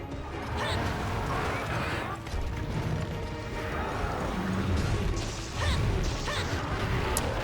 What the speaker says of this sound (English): Oof, large explosion.